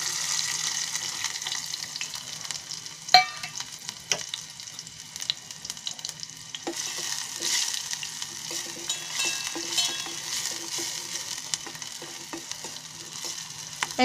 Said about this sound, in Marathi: आता त्याच्यामध्ये कांदा आणि लसूण एकदम टाकते.